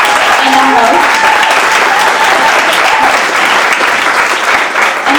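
A big round of applause for a panel of speakers and their host at a live LGBT discussion event, steady dense clapping from a close crowd lasting the whole time, loud and unbroken.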